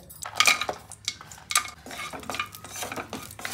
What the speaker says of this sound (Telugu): ఇప్పుడు ఇందులోనే మనము జీడిపప్పు కిస్మిస్ వేయించేసుకుందాం